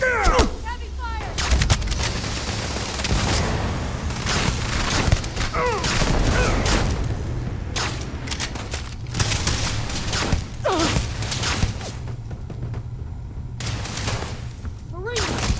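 Heavy gunfire in the video game Starfield, a dense, loud barrage of repeated shots and booms rolling on without pause, with shouted voices breaking in over the battle.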